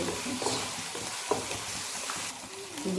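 Garlic ginger paste fries in a pan with a faint, soft sizzle, broken by a few quiet scrapes of stirring.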